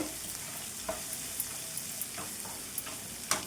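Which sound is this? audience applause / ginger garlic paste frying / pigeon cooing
ginger garlic paste frying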